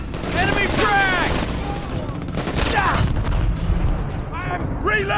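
Grenade blast and rapid gunfire in the Brink video game during a fight over a command post on the Founders Tower map, loud and continuous with booms mixed into the firing, while voices shout over it.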